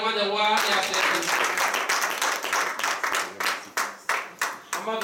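A church congregation claps in acclamation during a Saturday worship service, a dense burst of many hands that breaks into rhythmic beats toward the end, mixed with voices.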